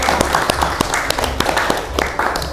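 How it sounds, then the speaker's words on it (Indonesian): A small group claps in an Indonesian classroom for a student named Adi, giving brief, uneven applause with distinct individual claps standing out over a steady room murmur. "Tepuk tangan untuk Adi."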